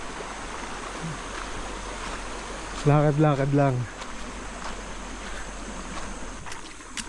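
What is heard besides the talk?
river stream flowing at a river crossing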